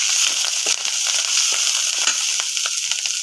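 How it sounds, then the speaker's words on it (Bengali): Pieces of chital fish are stirred in a pan with chilli powder, turmeric and salt, giving a loud close sizzle and frying crackle broken by scraping stirs and spatters. "এর মধ্যে আমি 1 চামচ লঙ্কা গুঁড়ো, 1 চামচ হলুদ গুঁড়ো, 1 চামচ লবণ দিয়ে ভালো করে নেড়ে নেব"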